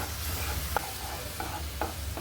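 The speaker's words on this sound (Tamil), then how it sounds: "வாழைப்பழத்தில் உள்ள பச்சை வாடை போகிற அளவுக்கு நல்லா கலந்து விட்டுக்கோங்க" Mashed bananas cook in a pan for a banana semolina snack, a soft sizzle running underneath as a spoon stirs them with several regular scraping strokes, close and without talk.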